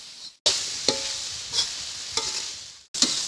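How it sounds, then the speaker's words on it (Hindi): Vegetables with turmeric fry in a pan, with a few brief bursts of sizzle and stirring scrapes separated by quiet gaps and sudden cuts, no speech. "आपने बहुत देर इसको फ्राई करना है"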